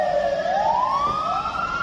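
A fire brigade truck's siren wails in a single loud, rising sweep that holds steady and close, with no voices.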